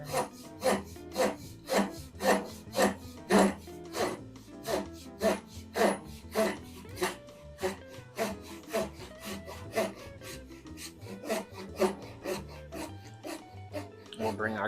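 A hand saw cuts a kerf across the top of a piece of wood for a garage garden platform. Rhythmic back-and-forth rasping strokes sound close and steady, about two strokes per second, with no talk.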